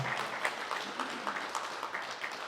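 Congregation clapping together at a Spanish-English bilingual church service, a steady, fairly close wash of many hands with pulsing rhythmic accents, no voices over it.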